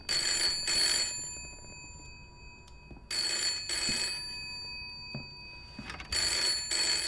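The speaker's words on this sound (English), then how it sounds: "No, I don't want to pick up the phone." A telephone rings in the horror video game Layers of Fear, sounding as repeated bursts of a bright, shrill bell separated by pauses, fairly loud against a quiet background.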